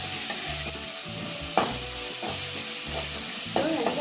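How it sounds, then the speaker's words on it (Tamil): Onions sautéing in a pan with asafoetida for a Tamil vallarai keerai rice dish, a steady close sizzle broken by repeated stirring scrapes and soft thumps of a spoon against the pan. "இதெல்லாம் போட்டு வெங்காயம்லாம் நல்லா வதங்கணும்."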